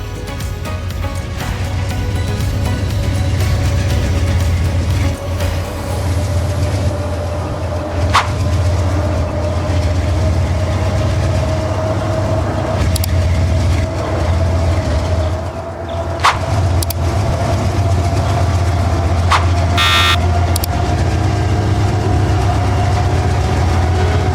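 A steady, low train engine drone in the Roblox game Rail Sim Universe runs throughout with a continuous rumble and a faint rising tone, broken by a few brief sharp clicks. No talking.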